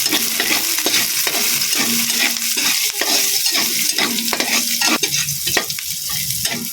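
Onions sizzle steadily in hot oil in a pan while cooking fried tilapia in coconut milk, a loud, continuous frying hiss with occasional stirring clicks and no talking.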